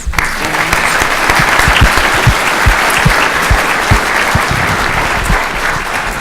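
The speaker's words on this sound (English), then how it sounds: "Round of applause for these guys." Dense, steady applause from a conference audience after a panel on a declaration of rights, loud and sustained with sharp individual claps standing out.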